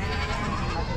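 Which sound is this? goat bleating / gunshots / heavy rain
goat bleating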